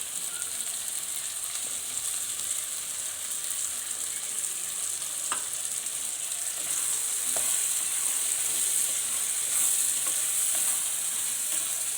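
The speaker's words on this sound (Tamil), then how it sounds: "இப்போ இந்த பேஸ்ட்டை தான் நான் அதில் ஊற்றுறேன்." Constant hissing sizzle of spice paste poured into a hot pan for a potato milk curry, with occasional faint clinks and scrapes, no talking.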